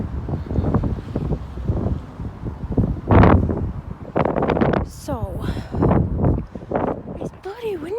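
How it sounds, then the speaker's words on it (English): Gusty wind buffets the microphone outdoors, rumbling loudly beneath a person talking throughout. "it's bloody windy out here."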